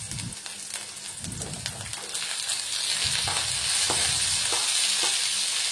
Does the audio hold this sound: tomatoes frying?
yes